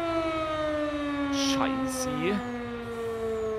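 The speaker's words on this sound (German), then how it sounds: "Oh, die Sirene, die Gemeinde brennt übrigens." Wailing fire siren sounding over the municipality in Farming Simulator (True Farming), a steady harmonic drone with pitch sweeping up and down midway, while someone speaks briefly.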